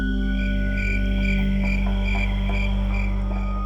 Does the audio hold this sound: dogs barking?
no